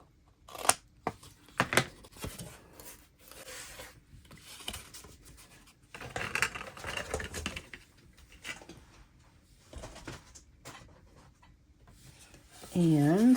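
Scissors snipping paper corners while making a vintage bingo card folio, short crisp cuts interspersed with paper handling and rustling, heard close under intermittent talk.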